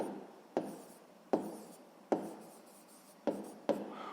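A pen scratches across paper in short strokes, five quick taps and scrapes spaced about a second apart while math is worked out, close and quiet.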